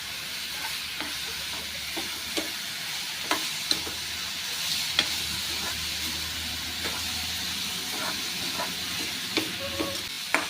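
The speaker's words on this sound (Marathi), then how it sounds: "तर वांगी चांगली आपल्याला परतून घ्यायची आहेत मोठ्या गॅस करून" Brinjal pieces sautéing in a pan over a high flame, giving a steady low sizzle broken by sharp scraping clicks of stirring throughout.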